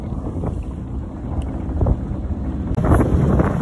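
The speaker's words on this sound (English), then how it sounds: "we are motor sailing on a beam reach. Got a medium amount of sail up and we are hauling." Sailboat motor sailing on a beam reach off the US East Coast, a steady rush of wind buffeting the microphone over churning water, with a brief knock partway through and no talk.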